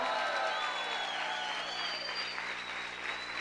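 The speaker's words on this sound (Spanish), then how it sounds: "Vamos a gritar y aplaudir fuerte al Señor." A church congregation shouts and applauds for the Lord, a continuous wash of clapping and raised voices heard from some distance, with cheering layered throughout.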